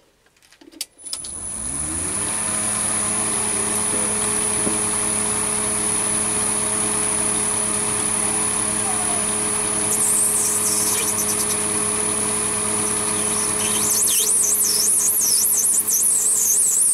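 A Chinese mini lathe machines an acetal compressor manifold: a steady, loud motor hum with a high whine runs from about a second in, and cutting chatter and squeal rise over it toward the end, with no voices.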